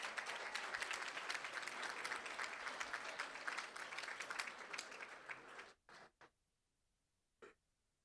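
An audience at a school board meeting applauds retirees with dense, fairly quiet clapping that continues steadily, then stops abruptly, followed by a few scattered late claps and then silence.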